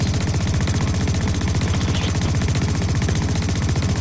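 Rapid automatic gunfire in the multiplayer shooter game Blacklight, a loud continuous rattle of fast shots filling the whole stretch with no pause.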